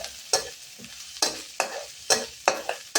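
Chicken stir-frying in a pan with herbs, a soft sizzle under a series of six or seven sharp, evenly spaced scrapes and tosses of the spatula, close and fairly quiet.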